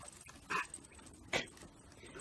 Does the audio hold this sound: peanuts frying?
no